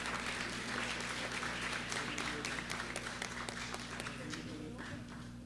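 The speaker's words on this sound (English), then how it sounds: "So let's give him another round of applause." An indoor crowd at an Eid al-Fitr community gathering gives sustained, dense applause, steady and moderately loud throughout, with some faint voices mixed in.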